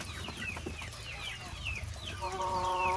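Farm chickens cluck and squawk in quick repeated calls, fairly close, with a steady low rumble beneath and a faint tonal hum rising near the end.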